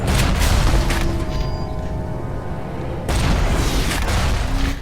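Turret gunfire in the BioShock video game, a dense stream of loud booming shots that runs almost without a break, dips a little in the middle, and then surges again.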